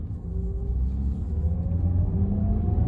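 A Toyota Auris 1.33 engine accelerates under throttle, a steady low rumble rising gradually in pitch as revs climb, heard from inside the car with no talk.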